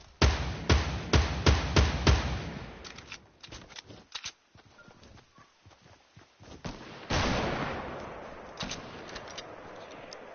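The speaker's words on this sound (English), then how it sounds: "I'm using a hunting rifle." Sharp hunting rifle gunshots in a video game, a quick string of loud cracks that thins into scattered shots and clatter, then a heavier burst near the end.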